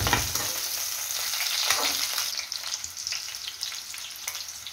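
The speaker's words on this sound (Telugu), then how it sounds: "దీంట్లో నేను ఇప్పుడు ఆనియన్స్ వేసేస్తుండా. ఆనియన్స్, చిల్లీస్ ఏదైతే ఉందో దీని వేసేసి" Onions and chillies hit hot oil in a pan and sizzle loudly and continuously, with brighter crackling bursts near the start that ease slightly toward the end.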